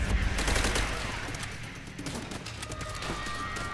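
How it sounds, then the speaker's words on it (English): Sustained rapid gunfire in Call of Duty: World at War, on the co-op mission Burn'em Out, a loud continuous fusillade with dense overlapping shots that eases slightly toward the end. "I'm just gonna shoot everybody."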